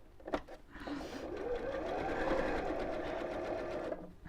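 A domestic sewing machine stitches fabric: a steady, close mechanical whir with fast rhythmic needle clatter, running continuously for a few seconds after a short start, without speech.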